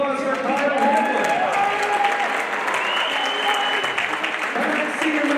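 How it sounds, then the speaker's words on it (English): Fans in a school gym applaud during a boys basketball senior day, a steady dense wash of clapping with cheers and voices mixed in throughout, loud and close. "Fans, let's hear another round of applause for Kyle Hamlin."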